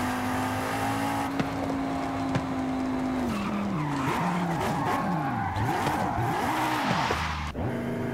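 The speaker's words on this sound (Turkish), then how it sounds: "Buraya dip gaz giriyoruz biliyorsunuz" An Audi TT RS tuned to 1000 Nm, driven at full throttle in Forza Horizon 5: a loud, steady engine drone that drops in pitch, then swings up and down through gear changes while tires squeal and skid.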